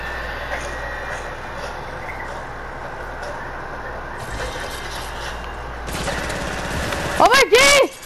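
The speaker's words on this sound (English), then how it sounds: "Where's the shooting at? Oh, they're shooting up there." Gunfire in the Fortnite battle royale game, a steady rattle of automatic shots under continuous game ambience, growing louder with a burst of sharper, closer shots near the end.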